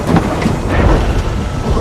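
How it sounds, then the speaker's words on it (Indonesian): A storm with hail and thunder: a loud, dense wash of pelting rain and hail with deep rumbling underneath, filling a brief moment with no voices. "mereka juga menghadapi hujan es"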